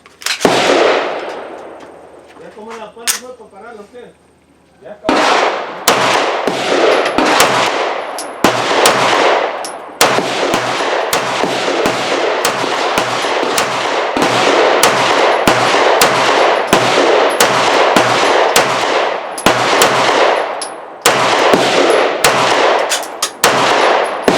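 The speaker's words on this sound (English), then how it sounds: "So we're out here with the Sarsilmaz B6 chambered in 9mm." A Sarsilmaz B6 9mm pistol fires at an outdoor range: one shot, a pause, then long strings of sharp, loud reports in quick succession with short gaps, ringing metallic clangs of steel targets between them.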